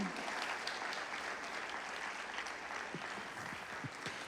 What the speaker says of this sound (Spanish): Denle un aplauso al Señor ahí para que suelten la tensión